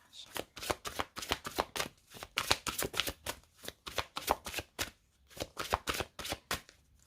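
Oracle cards being shuffled by hand, a close, rapid riffling in repeated bursts with short pauses between them, crisp and fairly loud, and no talking.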